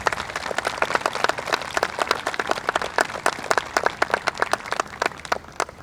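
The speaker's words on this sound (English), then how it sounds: "One big round of applause." Audience applause at the 2022 Huntingburg Herbstfest pageant, a steady burst of many hands clapping indoors, dense and moderately loud throughout with no talk over it.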